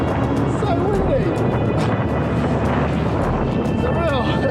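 Strong wind on the Severn Bridge while cycling, a loud, continuous rushing roar against the microphone throughout, with a voice talking over it.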